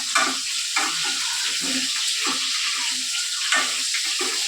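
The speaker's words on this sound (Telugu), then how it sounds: "ఇవి ఇప్పుడు ఆయిల్లో మంచిగా ఉడికిపోతాయి అనమాట ఫ్రై అయిపోతాయి" Bitter gourd pieces fry in hot oil, a strong steady sizzle with repeated stirring scrapes and spatula clacks, near and loud, with no one talking.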